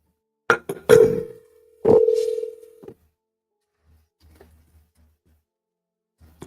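Telephone dial sequence while placing a call: a few short touch-tone beeps, then two sustained tones about a second each, followed by faint low hum and near silence.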